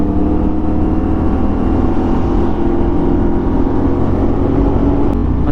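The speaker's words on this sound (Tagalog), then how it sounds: "Maraming sasakyan ngayong oras na to, ganitong oras na to." Heavy road traffic on the Marilaque highway in the Philippines heard from a CFMOTO 450SR motorcycle: a dense, loud, continuous roar of engines and wind with no distinct pauses and no voices.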